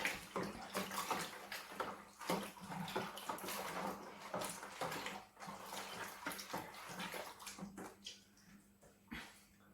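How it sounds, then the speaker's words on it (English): Water splashes and sloshes in a pot as sugar is stirred into boiling water for home-brewed beer, with irregular swirling and clinking noises that fade toward the end. "I'm just going to dissolve that sugar in the boiling water."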